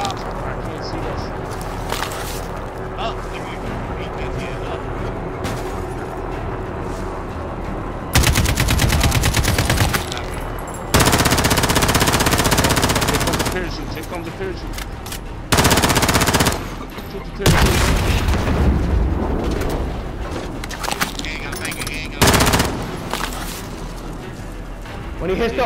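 Bursts of automatic gunfire from Call of Duty: Modern Warfare, several loud sustained volleys separated by short gaps, with players talking over the shooting.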